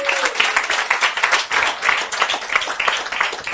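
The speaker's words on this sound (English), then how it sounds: "A very wonderful round of applause for them, please." An audience at a Tony Elumelu Foundation International Women's Day event gives speakers a lively round of applause, with brisk, steady clapping filling the room.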